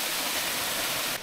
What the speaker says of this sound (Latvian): mēs esam sasnieguši waterfallu